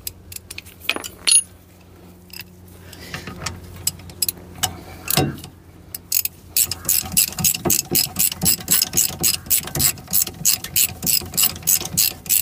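Ratchet wrench clicking on the caliper bolts of a Skoda 120 front hub during a front bearing service, first in scattered metallic clicks and clanks, then a fast, even run of close, crisp ratchet clicks.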